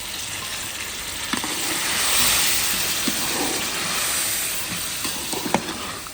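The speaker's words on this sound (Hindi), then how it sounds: "थोड़ा सा दही डालते हैं।" Yogurt is added to a sizzling gravy in a pan, a loud, dense hiss that swells and eases, with scattered light stirring clicks and no talking.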